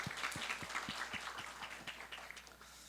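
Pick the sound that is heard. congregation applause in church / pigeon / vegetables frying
congregation applause in church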